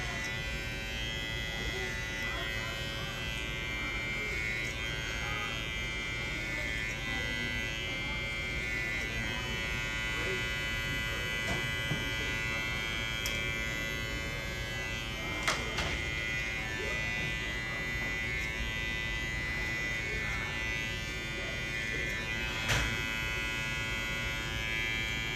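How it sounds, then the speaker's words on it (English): Electric hair clippers cutting a man's hair give a steady, close buzzing hum throughout, with faint clicks and rustles as the blade moves, and quiet speech at times. "just going in to the clippered area, scooting it out away from that clipper area, and then taking off the longer hairs that are left over"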